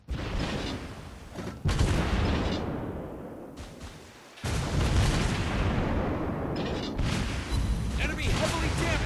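Heavy battleship main guns of the British battleship Queen Elizabeth firing in World of Warships Blitz, loud booming salvos with rumbling tails in dense game audio, a brief lull before more sustained blasts.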